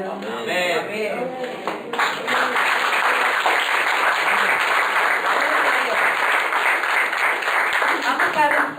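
Church congregation applauding during a Sunday service: a loud, full wave of clapping from the assembled worshippers that rises after a spoken line and carries on steadily to the end.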